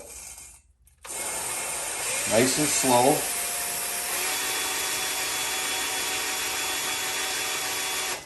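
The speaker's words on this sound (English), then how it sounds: "when I push the drill, I'm actually turning the valve face" A steady mechanical whir runs for several seconds, a hand drill spinning a Kawasaki FR730V engine valve against its seat to lap it with grinding paste, with a brief voice speaking over it early on.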